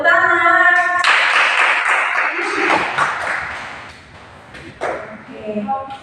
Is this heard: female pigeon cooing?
no